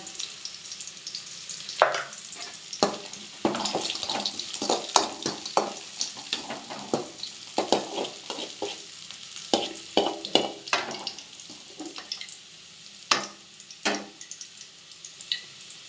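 Onions fry in a pan for a country chicken curry, a steady close sizzle broken by frequent scraping and knocking strokes of a spoon stirring them, with no one talking.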